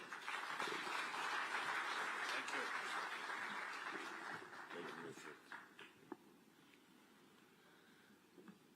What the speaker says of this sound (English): Let's welcome him with a clap